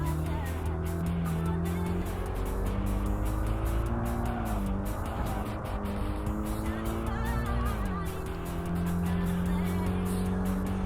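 Honda race car from Tokyo Xtreme Racer Drift 2 roaring steadily at high revs, engine pitch gliding up and down through shifts, with faint tire noise under a continuous drone.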